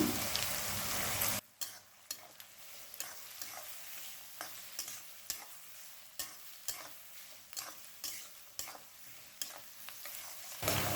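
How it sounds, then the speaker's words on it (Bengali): Steady frying sizzle with a broad hiss as chopped onions with a little salt fry on high flame, punctuated by regular sharp scrapes of a spatula stirring in the pan, close and moderately loud, no talking. "বড় সাইজের চারটে পেঁয়াজ কুচি চার থেকে পাঁচ মিনিট হাই ফ্লেমে ভেজে নেব"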